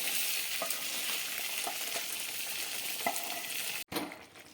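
Vegetables being stirred into dal in a cooking pot, with a constant hissing sizzle and a few soft knocks from the spoon, close and fairly quiet, with a brief cutoff near the end.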